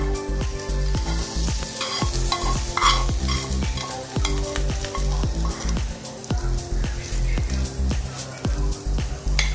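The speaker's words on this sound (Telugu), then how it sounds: "ఇప్పుడు ఈ పచ్చడిలో పోపును కూడా యాడ్ చేసుకుందామండి." Hot tempering added to a ground okra chutney, then stirred: steady loud sizzling with rhythmic spoon scrapes and taps against the bowl throughout.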